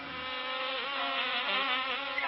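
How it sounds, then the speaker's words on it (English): Bees buzz in a continuous, high hum that holds steadily throughout, close and fairly loud, with a slight wavering pitch. "The bees were the last to go in"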